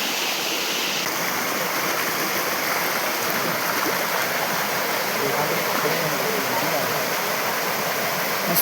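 A jungle waterfall in the Konkan countryside roars as a steady, dense rush of falling water, loud and unbroken throughout, with no distinct voices standing out.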